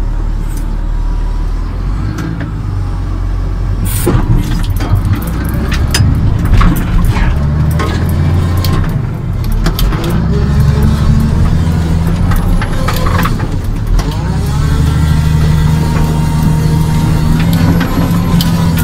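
Wheel loader engine running steadily while the machine is operated, a loud, continuous close diesel rumble with some clanks and shifting tones throughout.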